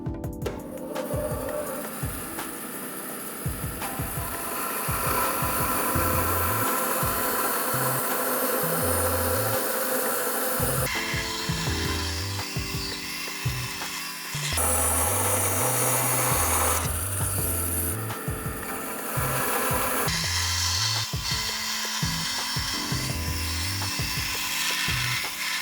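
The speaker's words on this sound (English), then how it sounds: "Now that we've completed our resawing process and we've got our 3/8 of an inch wide material" A power saw resaws a wenge wood board, biting in repeated loud bursts with rising and falling pitch, separated by short quieter gaps as the cut continues for about 25 seconds, with no talking.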